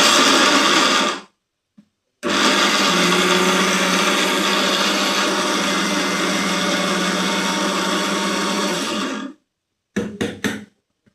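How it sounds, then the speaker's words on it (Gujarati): Mixer grinder crushing a fried laddu mixture: a loud, steady motor whir in two runs, a short burst and then about seven seconds of continuous grinding, followed by a few quick pulses. "મિક્સરમાં ભૂકો કરી લઈએ"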